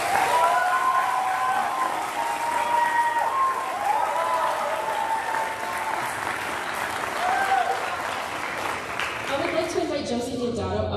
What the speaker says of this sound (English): Let's give a round of applause to our audience.